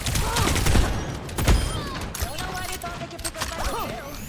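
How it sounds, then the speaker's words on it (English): Ashe's Coach Gun firing in the video game Overwatch: a burst of gunfire amid busy battle effects, with a voice talking over the dense, loud game sound. "And Ashe used Coach Gun, so she's off."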